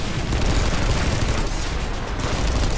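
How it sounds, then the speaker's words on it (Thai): Dense, loud gunfire rages without pause in a free-to-play sci-fi shooter game where three races battle to seize a planet, with overlapping bursts and booms and no voices. "มันยิงกันแบบดูเดือดมาก"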